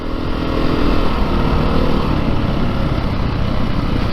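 A 2022 Beta 430 RR-S motorcycle engine chugs steadily at low RPM while ridden, a loud, continuous, rumbling drone with no pauses.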